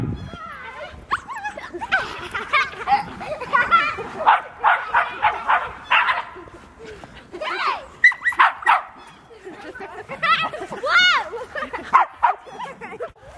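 A dog barks, yips and whimpers while playing in the snow, with a string of excited, uneven bursts close by, mixed with people's voices talking and calling.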